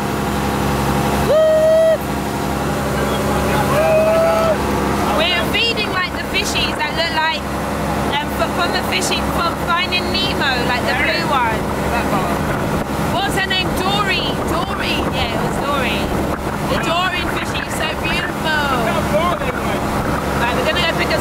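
A boat engine drones steadily beneath loud wind buffeting the microphone, with a voice talking over it and a couple of brief tonal beeps near the start, near the island of Koh Tao.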